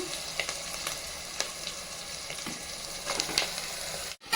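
Marinated goat head meat frying in a pan gives a steady, dense sizzle throughout, with a few soft stirring clicks and scrapes breaking through.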